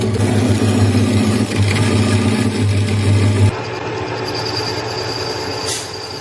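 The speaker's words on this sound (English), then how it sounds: "I'm going to use the power hacksaw to get it chopped" Power hacksaw cutting a 12mm linear shaft, a loud steady mechanical hum with a strong low drone that stops abruptly midway, leaving a quieter workshop background.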